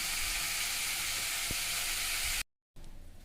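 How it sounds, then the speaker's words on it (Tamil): Goat head curry ingredients sizzle steadily in a hot pan, a loud continuous frying hiss that stops abruptly near the end and then resumes more faintly, with no talking. "நல்லா வதங்கிடுச்சுங்க."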